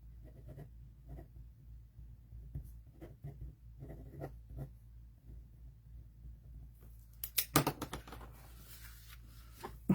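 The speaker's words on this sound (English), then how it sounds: "I'm going to open my card up to sign it here." A pen scratches across a watercolour card during signing, soft close strokes in short bursts, then a louder rustle of the card being handled near the end.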